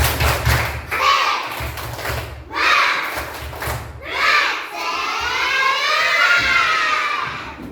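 Primary schoolchildren in a classroom perform a tepuk semangat clapping chant, with several loud bursts of rhythmic claps and shouted voices separated by short pauses, ending in a longer sustained cheer.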